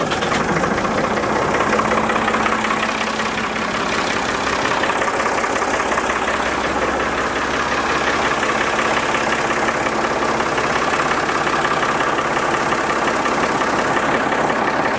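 A backhoe loader's engine idles while only partly cold, a steady, loud mechanical drone with a faint knocking rhythm running evenly for the full fifteen seconds, close up with no talking.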